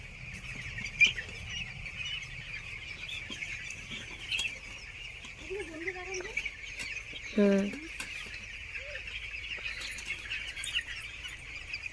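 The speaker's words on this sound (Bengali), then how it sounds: "হ্যাঁ, আমি মুরগি ছানা দেখতে এসেছি।" Hen with chicks clucking and peeping in a home garden setting, short soft calls and a brief louder cluck amid steady background insect-like hiss, with a person murmuring nearby.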